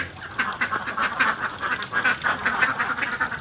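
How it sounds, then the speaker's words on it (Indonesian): Ducks raised for meat on a farm quack steadily and densely at close range, many calls overlapping in a constant noisy chorus with no talking. "kalau untuk bebek daging ini yang jelas kita angon, kita jaga"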